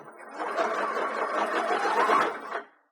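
A sewing machine runs in one steady burst of about two and a half seconds, stitching fabric for a DIY heart-shaped ice pack. The whirring is close and continuous, then stops abruptly.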